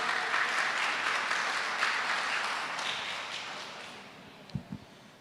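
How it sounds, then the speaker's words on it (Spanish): A church congregation applauds during a sermon, a dense, fairly loud wash of clapping that slowly fades, ending with a couple of sharp thumps. "Fuerte el aplauso."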